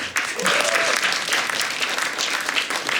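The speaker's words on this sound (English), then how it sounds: "Let's give her a round of applause." Audience at a symphony and astronomy event applauding, a full burst of clapping that rises quickly and holds steady, with a voice faintly underneath near the start.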